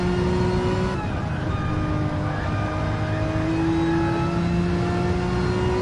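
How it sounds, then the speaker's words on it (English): Porsche Cup race car engine screaming at full throttle on board at the Barcelona-Catalunya circuit, a loud continuous high-revving wail rising through the gears with a brief shift dip, heard alone. "You'll hear the sound of this Porsche."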